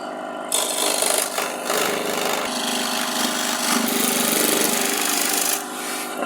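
A jigsaw rasps through glued-together foam during prop restoration casting work, a loud continuous cutting buzz close to the mic that starts abruptly and runs nearly unbroken, easing slightly near the end.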